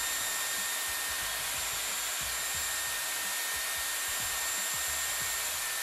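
A Dyson Airwrap blows air on its cool shot setting, a close, constant loud whoosh with a faint high whine, steady for the whole stretch without speech.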